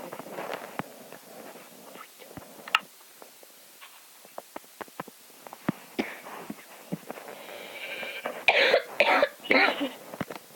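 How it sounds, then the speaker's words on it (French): Scattered sharp coughs and throat clearing through a quiet room, with a loud burst of several coughs near the end. "t'arrêtes pas de tousser?"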